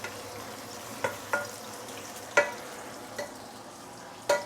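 Pork belly fries in a pan, a low steady sizzle broken by five sharp pops and splatters at uneven intervals, close and fairly loud.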